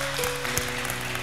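A church congregation claps during a sermon, a brief burst of hand claps with a few distinct sharper hits, heard over a sustained tonal background.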